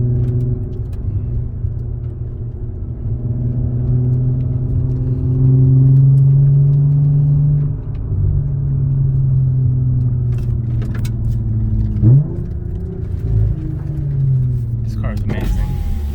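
A 2013 Audi S4 with an APR dual pulley upgrade drives along with a steady low engine drone inside the cabin, swelling briefly as it pulls, with a voice talking over it.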